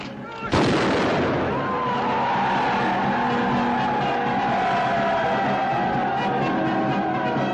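A company of soldiers fires a gun volley, a sudden loud crack followed by a long, roaring rumble and dense echoing din that carries on for several seconds.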